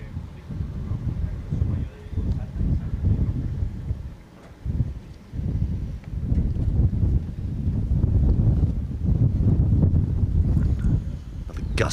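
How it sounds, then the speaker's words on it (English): Wind gusts buffet the microphone with heavy low rumbling that swells and fades in surges at an outdoor FootGolf world championship in Acapulco. Faint voices can be heard underneath. "The gust of wind picks up. It happens every now and then. You'll probably hear it as well."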